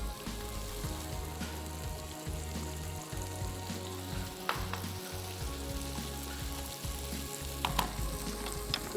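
Chicken frying in a pan with garlic paste and green chili paste makes a steady, moderate sizzle, with low rumbling and occasional crackles and stirring scrapes.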